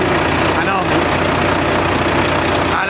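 A Volvo engine with worn piston rings and blow-by runs steadily up close, a loud continuous idling rumble with a rough knocking texture throughout.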